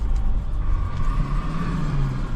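A Scania 143 truck's engine runs and rises in a rev, a loud, close, steady low rumble with a climbing tone toward the end and no speech.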